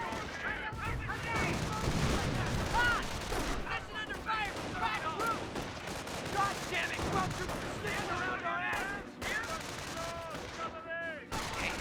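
A 180 gun firing in the Company of Heroes 1 video game, cleaning out hedges among repeated gunfire and artillery bursts in a busy battle, with a voice talking over it throughout.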